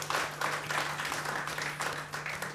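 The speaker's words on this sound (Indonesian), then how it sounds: "saya ingin memberikan kesempatan bagi Anda tepukan yang meriah dong untuk narasumber kita malam hari ini" An audience at an evening talk at a café applauds the guest speaker, a moderate, uneven patter of clapping from a smaller crowd over a steady low electrical hum.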